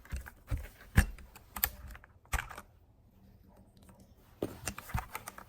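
Clicky keystrokes on an MK61 61-key mini mechanical gaming keyboard with hot-swap switches, coming in irregular bursts of close, sharp clacks with a short pause in the middle.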